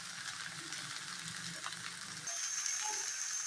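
Okra pieces fry in a pan with a steady, close sizzle and crackle, the hiss brightening and intensifying midway as turmeric goes in, with faint stirring scrapes underneath.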